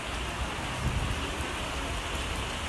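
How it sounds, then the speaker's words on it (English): Steady rain falls outdoors on a miserable day, a dense continuous hiss of drops striking surfaces nearby with no voices or thunder. "And it is raining outside."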